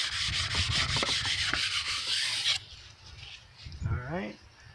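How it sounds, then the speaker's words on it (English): Cast iron engine block surface being hand sanded with steady back-and-forth strokes, loud and close, then stopping as a voice speaks briefly near the end. "Just take more time to sand."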